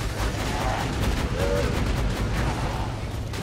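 Upgraded turret firing rockets in Borderlands 2, a steady dense barrage of blasts and explosions that stays loud and continuous throughout, with no talking over it.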